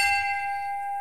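A last-call bell rings once in the bar of a secret NATO headquarters hidden in Maastricht, a bright metallic tone that sustains and slowly fades over about a second.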